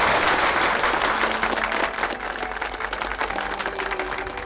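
A classroom of students applauding to encourage a classmate, a dense, loud burst of clapping that starts at full strength and eases off slightly over a few seconds.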